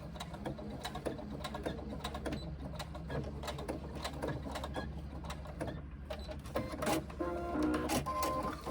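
A sewing machine stitches back across a top line with uneven mechanical clatter and ticking, close and moderately loud, with brief pauses and bursts toward the end.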